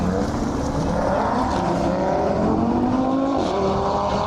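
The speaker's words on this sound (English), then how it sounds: "there's one of the other Porsches that's just leaving. I think that's a GT." A Porsche GT sports car pulls away from a 90s car meet, its engine note climbing steadily in pitch as it accelerates, loud and close with a constant roar.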